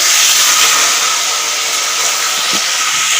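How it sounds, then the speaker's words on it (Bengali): Eggplant pieces go into hot oil after the spice tempering has finished popping, producing a loud, continuous, close hiss that holds steady for several seconds with no talking. "ফোড়নটা হয়ে গেল চটপট করে ফুটছিল সেটা হয়ে গেল এবার দিয়ে দেবো আগে বেগুন"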